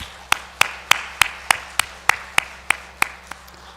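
A church congregation gives a slow, rhythmic round of applause for a newly registered member, about a dozen evenly spaced sharp claps in unison, fairly close and with no talk over them.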